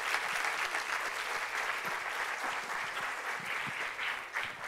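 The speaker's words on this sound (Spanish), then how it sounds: "Un aplauso," Sustained audience applause at a conference session, a dense steady wash of many hands clapping throughout, fairly loud and continuous with no speech over it.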